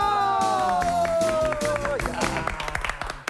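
A studio audience at a quiz show claps in a quick burst of scattered hand claps after a correct answer, rising under a fading tonal sweep and growing denser toward the end.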